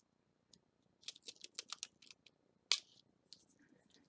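Protective backing peels off double-sided tape on a shaker card in a quick series of close, crisp crackling rips with short pauses, and one sharper tear stands out near the end.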